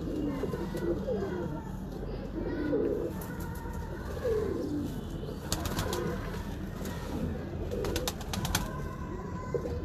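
Pet breeder pigeons coo in soft, rolling bursts at close range, mixed with people conversing nearby and faint background chatter.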